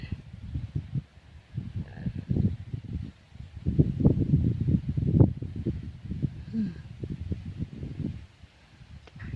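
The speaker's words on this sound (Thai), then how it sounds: "เสียงลมพัด" Dry cold-season wind blowing outdoors through a black rice field, gusting buffets and rustling rising and falling over several seconds, close to the microphone with no talk.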